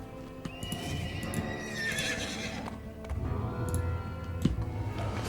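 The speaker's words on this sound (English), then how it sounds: "I should be using my horse." Rhythmic hoofbeats of a galloping horse with a whinny in the video game Dungeons & Dragons Online, set against a steady musical background.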